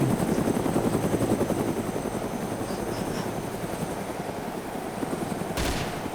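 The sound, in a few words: helicopter and gunfire in DayZ video game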